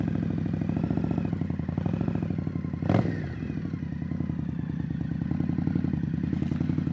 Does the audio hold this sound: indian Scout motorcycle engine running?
yes